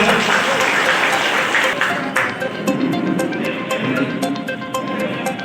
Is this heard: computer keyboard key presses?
no